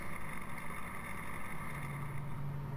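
A tractor pulling a mower cuts grass along a highway, its engine a steady, low, continuous drone heard from the machine itself, with no talk.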